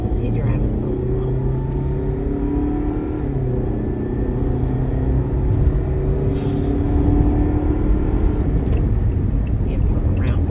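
A car rolls along slowly in traffic, giving a steady, close engine and road rumble that lasts throughout, with a person talking over it.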